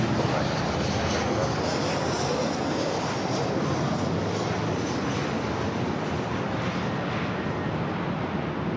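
Alaska Airlines jet at LAX airport, a steady broadband engine roar that stays loud and even throughout as the aircraft passes near.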